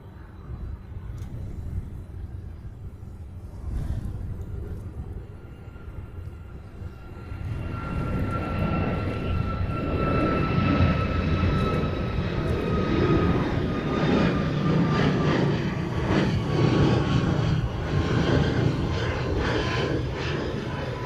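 Airliners departing an airport in Hawaii, with jet engine roar building from a distant rumble to a loud, sustained broadband thrust with rising whine tones as the planes climb out, no talk over it.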